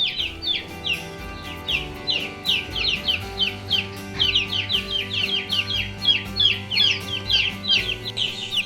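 A brooder full of young Freedom Ranger chicks peeps in dense, overlapping high chirps over a steady low background hum. The sound is continuous and close, with no one talking.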